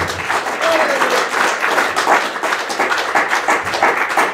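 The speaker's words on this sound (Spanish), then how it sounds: "Fuerte el aplauso al Señor" Sustained applause from a large crowd at a religious service, dense steady clapping that fills the whole stretch without a break.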